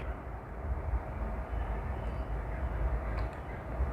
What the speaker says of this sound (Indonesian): Sebelah kiri kita juga ada kereta api.